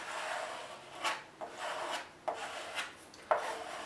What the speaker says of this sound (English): And I'm just going to keep scraping this